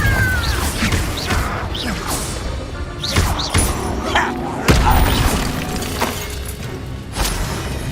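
Confringo blasting-curse explosions in Hogwarts Legacy on Xbox Series, repeated bursts and crashes with shattering debris over dense combat noise, while a voice shouts in between.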